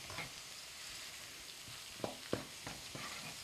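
Pita pieces roast in a pan with a soft, steady sizzle, broken by a few light scrapes or taps from stirring, faint and close, with no voices.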